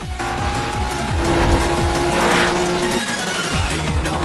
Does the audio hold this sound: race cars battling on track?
yes